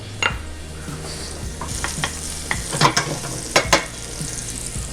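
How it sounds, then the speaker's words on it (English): Shallots sizzling in a hot pan under a continuous frying hiss, with several louder scrapes and clinks as they are stirred, close and clear with no talking. "I can hear the shallots in the background, so I'll give that a little stir in a second."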